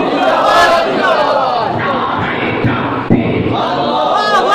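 A large crowd at an Islamic religious gathering chants back loudly in unison after a Nara-e-Takbir call, a sustained roar of voices lasting several seconds.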